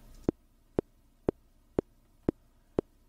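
Six evenly spaced sharp clicks from a Logic Pro metronome click track, about two per second, alone and steady.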